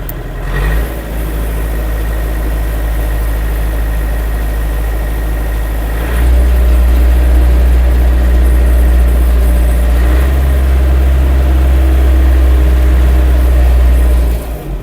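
A Skaut 404 walk-behind tractor engine runs steadily in low gear, a loud, continuous close-up rumble that deepens and strengthens partway through.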